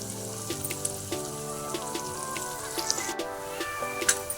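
Onions sauté in a pan with a little salt, a soft crackle of scattered pops and light sizzling, quiet and close, with no voices.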